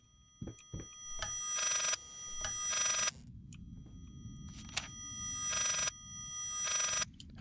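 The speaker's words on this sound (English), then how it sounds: "It's like a phone." A telephone rings in the horror video game Layers of Fear, repeated electronic bursts of about a second each with short gaps, clear and fairly loud over a low ambient rumble.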